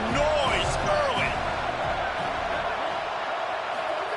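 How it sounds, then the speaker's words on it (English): College football stadium crowd at Notre Dame roars as a steady, dense wall of noise, with a few whoops rising out early, continuing without a break through the whole clip. "This crowd bringing the energy and noise early."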